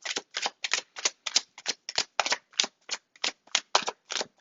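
Tarot cards being shuffled and handled, a steady run of about sixteen crisp papery riffles and slaps in even rhythm, close up and clear with no talking.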